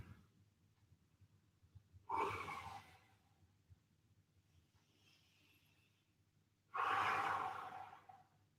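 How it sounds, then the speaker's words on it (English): Two long, deep breaths, each a loud, airy rush of several seconds separated by a quiet pause, taken during a live home workout recovery stretching session. "Big deep breaths."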